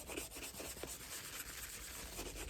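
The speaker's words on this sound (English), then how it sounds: "This gives it the kind of final light sanding." A wetted leather shoe sole gets a light sanding, heard as soft, faint, repeated rubbing strokes against steady background hiss.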